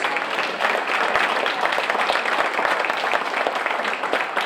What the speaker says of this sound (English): Let's give them a round of applause tonight.